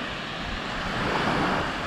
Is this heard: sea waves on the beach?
yes